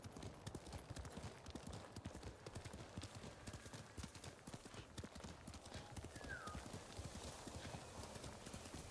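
Rapid hoofbeats clatter in a steady galloping rhythm, with a brief high whinny partway through, all fairly quiet, from a horse in Ghost of Tsushima.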